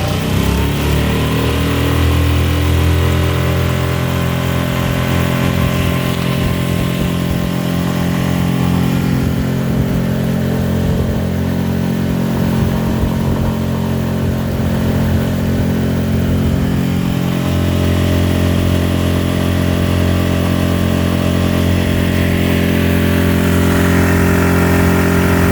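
A 6 hp Tohatsu outboard motor on a kayak crosses a lake, a steady buzzing drone that shifts pitch slightly midway as the throttle changes, loud and close with no voices.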